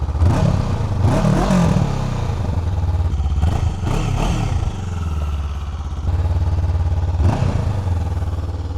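A Honda CB500F motorcycle's exhaust note while riding, a steady loud engine drone with a few surges as the throttle rises and falls, close up and with no talking.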